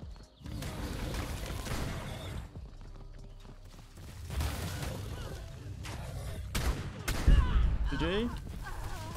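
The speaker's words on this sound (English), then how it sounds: "Oh my god, he's got a shotgun." Shotgun fire in the survival video game ARK comes as several loud booming blasts scattered over a few seconds, mixed with busy game noise and shouted voices.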